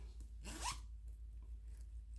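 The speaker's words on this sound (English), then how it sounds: "it's got a zipper" A single zipper pulled once on a handmade, fully lined cashmere bag, a quick close raspy zip in the middle of an otherwise quiet moment.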